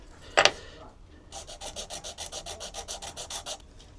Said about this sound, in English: So I'm going to give this a gentle rub, see whether we can get the paint off.